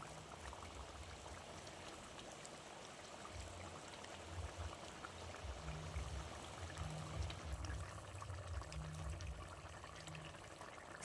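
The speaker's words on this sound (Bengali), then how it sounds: "দেখুন খুব ভালো করে ঝোল ফুটে গেছে। মাছগুলো আমি একে একে ঝোলের মধ্যে দিয়ে দিচ্ছি।" Thin fish curry broth with bottle gourd stems bubbling in a pot as golden fish pieces go in one by one, a quiet, steady simmering burble with soft watery gurgles and no talking.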